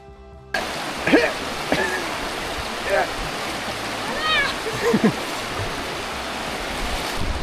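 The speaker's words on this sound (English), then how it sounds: "You can feel the current on this crossing." River current rushing through the Zion Narrows canyon, a steady close wash of flowing water with splashes from wading, while people talk briefly over it.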